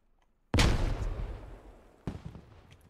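A grenade blast in a video game lands with a loud, deep boom and a trailing rumble, followed a moment later by a second, smaller explosion.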